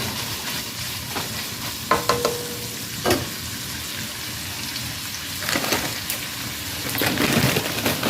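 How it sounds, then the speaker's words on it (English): Food for a creamy potato soup is stirred and crumbled as it fries in a pan, with a continuous sizzle and occasional scraping and tapping strokes of the utensil and no talking. "we're going to give it a nice stir here and crumble it up a little more"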